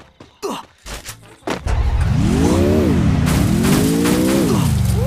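A car engine in a mobile battle royale game, revving steadily with rising and falling pitch after a few short choppy bursts, loud and close throughout.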